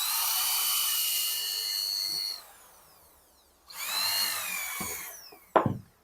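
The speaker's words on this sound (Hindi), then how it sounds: "यहाँ पर मैं ड्रिल कर लेता हूँ।" A power drill bores into particle board with a loud, steady whine that runs for about two seconds, pauses, then starts again for a second run and ends in a sharp knock.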